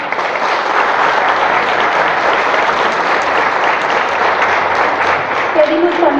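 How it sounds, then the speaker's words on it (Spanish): Audience applause at the inauguration of the third women's forum in Maravatío, steady and dense for the full stretch, with a brief voice surfacing near the end. "Anita Sánchez Castro, a quien pedimos un fuerte aplauso, por favor."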